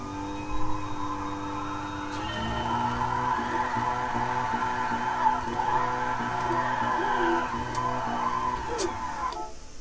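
Tires slide and squeal as a car drifts in a racing video game's driver-school drift lesson, a steady engine drone with sustained screeching carried across the whole stretch.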